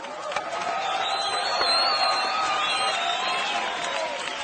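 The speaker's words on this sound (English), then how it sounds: "the crowd goes wild." A circus show audience cheers and applauds at the end of a performance, a broad sustained wash of clapping and crowd noise that holds steady throughout.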